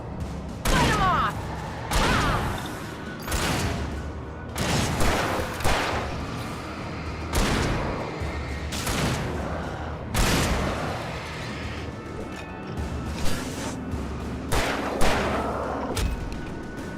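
Repeated gunshots from the survival horror game Alan Wake Remastered, loud close bursts arriving in irregular volleys with booming tails, a voice talking over parts of the firefight.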